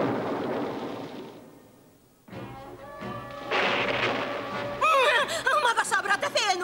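A deep rolling thunder rumble from a cartoon storm fades away, followed by dramatic orchestral music and cartoonish vocal sounds.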